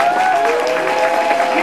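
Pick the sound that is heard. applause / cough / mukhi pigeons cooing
applause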